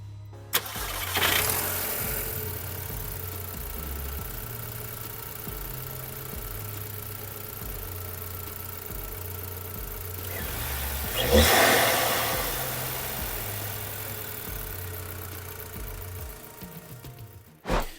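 A 2nd-generation Audi TT cranks and fires up after its high-pressure fuel pump cam follower was replaced, a loud starter whir catching into a running engine that idles steadily, then revs sharply once near the middle before settling, close by with no talk.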